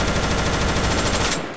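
Gunfire in a video game battle against Siren Head and giant monsters on a deserted island: a loud, rapid automatic burst of shots close up, continuous for over a second before cutting off abruptly.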